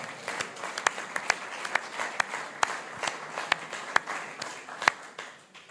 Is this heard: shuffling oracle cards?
no